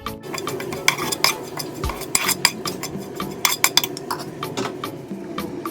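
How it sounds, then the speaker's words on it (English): A spoon scrapes and clinks against a bowl while chammanthi is mixed with salt and turmeric powder, a close irregular series of metallic taps and scrapes with no talking. "Mix it properly."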